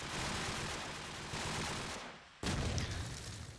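Rapid bursts of gunfire in a Call of Duty 4 promod match on the Backlot map, heard as dense, fairly faint crackling volleys that break off briefly and then resume.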